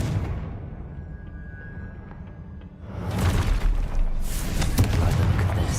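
Confringo spell explosion in the video game Hogwarts Legacy, a sudden loud booming burst with crackling debris after a quieter lead-in, the rumble lingering to the end.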